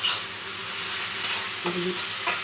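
Noodles being stirred with vinegar and tomato sauce in a hot pan, giving a steady, close sizzle under a few soft scraping strokes, with no voices.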